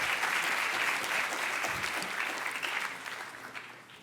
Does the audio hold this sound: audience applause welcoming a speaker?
yes